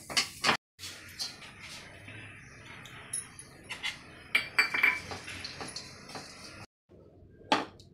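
Dried coconut being stirred as it roasts in a pan, heard as sporadic close clinks and scrapes of a utensil against metal with brief quiet gaps.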